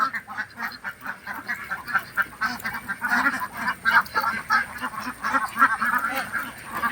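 Flock of native Kuttanad ducks, drakes among them, at Kuruppanthara jetty in Kerala, quacking in a steady, overlapping chorus of rapid calls at moderate distance.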